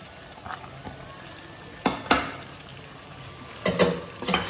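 Chopped onions sizzle and fry in a pan for an Assamese spicy duck curry with ash gourd, with a steady low crackle broken by a few louder scraping stirs of a spoon.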